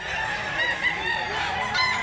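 A rooster at a rural poultry sale in Mantalungon, Barili, Cebu, crows in a loud, sustained, close call over a busy yard, with other fowl noise and clucks blending beneath.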